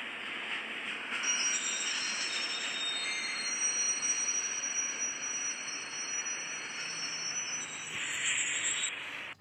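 A train runs along a track with a steady rolling rumble and a sustained high metallic wheel squeal, loud and continuous with no voices.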